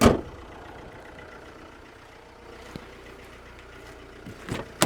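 A Fiat 500L with the later redesigned 1.6 diesel engine idles steadily at a low, even level, with a couple of brief knocks and clicks near the end and no talking.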